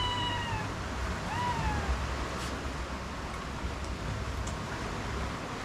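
Two short, faint meows from a cat over steady background noise, close together near the start.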